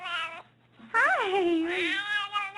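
A cat meows twice at close range, a short call followed by a longer, rising and falling meow, with the gap between them otherwise quiet.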